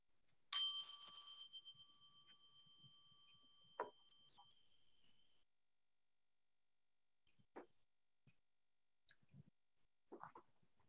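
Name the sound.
bell rung to open a church service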